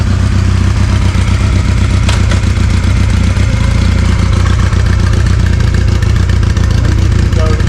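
Honda Rebel motorcycle engine with a clutchless electric gear shifter, shifting down through the gears: a loud, steady engine drone runs throughout with slight rises and dips in pitch.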